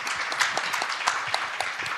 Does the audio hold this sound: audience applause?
yes